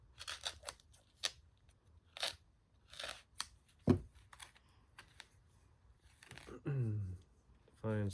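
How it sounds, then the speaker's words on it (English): Scissors snip hair tangled on an iRobot Roomba brush, giving a series of short, crisp, close clicks and cuts at uneven intervals, with a couple of low handling thumps and a brief voice near the end. "come through and cut off all the hair that might be on here"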